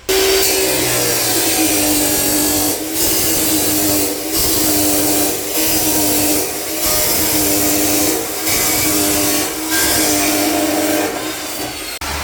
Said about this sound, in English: now I'm going to do the cut